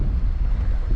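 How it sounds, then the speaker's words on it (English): Wind buffeting a microphone outdoors by the water on a fishing trip, a steady low rumbling roar with no voices, constant and close throughout. "A bit windy, but that's alright."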